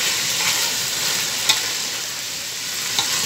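Ingredients for fried rice fry in a pan with a constant bright sizzle, broken by two brief utensil clicks as they are stirred together. No one speaks.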